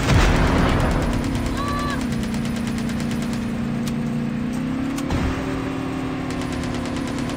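Gunfire in an online shooter game during a squad battle, with sharp shots cracking over a steady engine-like drone and a brief whistling tone, fairly loud throughout.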